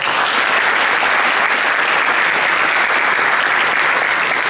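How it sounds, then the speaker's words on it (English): A loud, dense round of applause fills a hall at a high school athletic banquet, steady and sustained throughout with no pause. "Will we please give these fellas a round of applause?"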